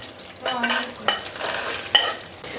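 Chana dal and red chillies sizzle in a hot pan while a spoon stirs and scrapes them, with several distinct scraping strokes over a steady close frying hiss.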